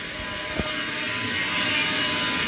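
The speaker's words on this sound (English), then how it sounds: "So that noise you can hear is my hot water unit." A hot water unit's noisy fan whirs steadily with a constant airy hiss while heating, running continuously at close range with a single brief knock early on.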